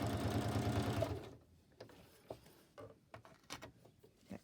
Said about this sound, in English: I'm just going to stitch down across here just to make sure the papers don't lift.